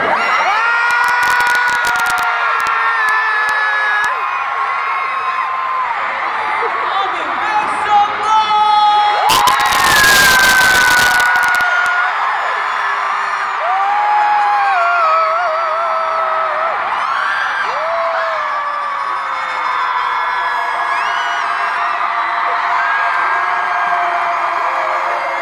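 A huge concert crowd at a show in New Jersey screams and cheers continuously, a dense wall of high-pitched shrieks with a brief louder surge partway through.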